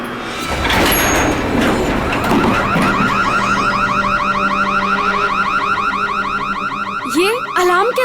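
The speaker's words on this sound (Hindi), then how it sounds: "ये अलार्म कैसा?" An alarm sounds from a stuck lift, a loud warbling electronic wail that cycles steadily and continuously, close by and alone.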